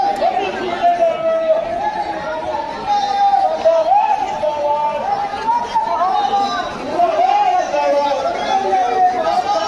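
Packed outdoor crowd at a Yogi Adityanath rally in Narpatganj, Bihar, a constant loud murmur of overlapping voices with a rising and falling amplified drone over it, steady throughout.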